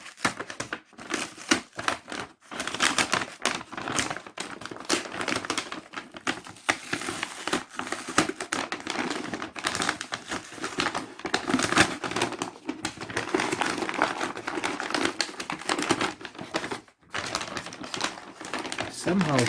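Paper packaging pulled and torn from a Samsung Galaxy Note 20 Ultra box, a busy close run of crinkling, rustling and tearing bursts with brief pauses, continuing for the whole stretch.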